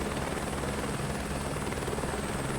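A helicopter flying through a mountain pass on the Lahaul and Spiti loop, its engine and rotor drone heard from inside the cabin as a loud, steady, unbroken roar.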